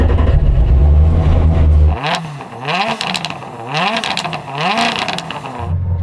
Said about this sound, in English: let's have a listen to your little 4-cylinder.